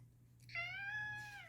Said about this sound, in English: My cat wants treats, and we are out of treats right now.